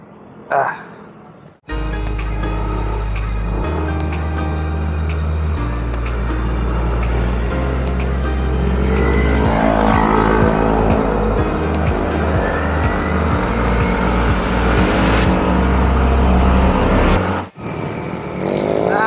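Heavy trucks and other traffic pass close by on a busy road near a Shell station in Baliwag, Bulacan, with a loud, continuous engine drone that rises and falls as vehicles go by before cutting off abruptly.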